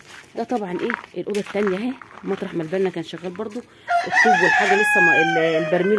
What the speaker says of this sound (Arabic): طبعا الفراخ هتموت من الجوع اهي